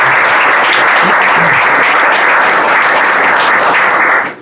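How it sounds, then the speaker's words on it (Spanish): Wedding guests at a civil marriage ceremony in Santa Rosa break into loud, sustained applause, the dense clapping holding steady before cutting off abruptly near the end. "A los presentes les voy a pedir que les brindemos un gran aplauso."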